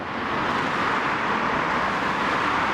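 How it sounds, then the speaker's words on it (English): Steady, dense roar of road traffic, continuous and fairly loud, with no distinct passing vehicles standing out and no talking. "A lot of traffic noise behind me."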